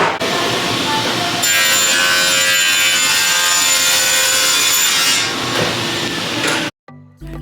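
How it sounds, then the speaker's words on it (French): A store worker cutting a white wooden shelf board with a power saw: one long, loud, continuous grinding cut that ends abruptly, followed by a brief thud. "le monsieur il va me la découper directement. Donc là il est en train de la placer pour faire une découpe."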